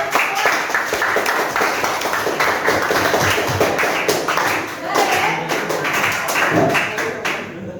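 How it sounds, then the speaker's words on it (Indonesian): A classroom of students claps their hands together in sustained, dense applause, loud and close, with children's voices chattering underneath. "beri tepuk tangan untuk kita semua"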